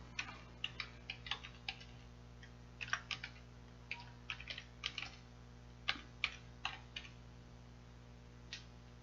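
Keys clatter softly on a computer keyboard in irregular bursts of quick taps with short pauses, faint and close in an otherwise quiet room.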